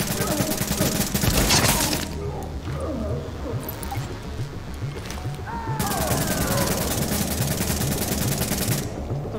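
Automatic gunfire in The Division, loud bursts and sharp shots crackling close by, with a glassy shattering and a brief lull midway, while players talk over the combat.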